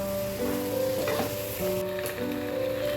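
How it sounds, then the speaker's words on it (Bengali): Meat with plenty of garlic, ginger and dried red chili sizzles steadily in a pan as it is sautéed and stirred, a loud continuous frying hiss with a steady tonal hum running underneath. "এইটা দিয়ে একটুখানি কষতে হবে ভালো করে"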